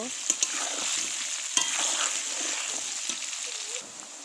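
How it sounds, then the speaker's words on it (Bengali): Potatoes frying in oil with salt and turmeric while being stirred: a continuous sizzle with scraping spatula strokes and a few sharp clicks against the pan. "আলু ভাজার জন্য একটু লবণ আর একটু হলুদ দিয়ে দিলাম। এটাকে ভালো করে ভেজে নেব।"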